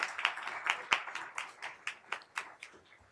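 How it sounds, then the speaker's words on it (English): Audience applause at a school board meeting: a few seconds of scattered, uneven hand clapping from a modest crowd, steady throughout and fading slightly toward the end. "you can give her a round of applause"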